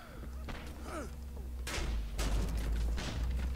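Sniper rifle gunfire in the video game Gotham City Impostors: a few loud, booming shots with sharp onsets at close range, layered over a constant din of game noise and short effects.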